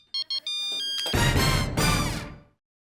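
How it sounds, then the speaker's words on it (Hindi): Mobile phone ringtone plays with two short electronic beeps and then a tonal melody, before a loud, dense burst swells in and fades out, with no talk over it. "मेहता साहब, अभी उठाऊंगा तो बताना पड़ेगा मैं कहाँ हूँ"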